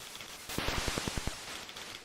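Shooting in the video game Creative Reality: a quick string of about eight evenly spaced shots, faint and fairly close, fired in a short burst.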